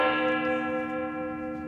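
A sustained, ringing alarm bell in a stage performance of Macbeth sounds alone and fairly loud. Its steady, layered tones decay slowly without any voices.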